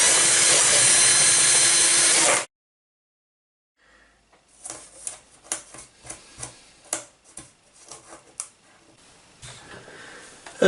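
A loud power drill on high speed whirs steadily for a couple of seconds while cutting through a panel, then cuts off, followed by a run of scattered clicks and cracks.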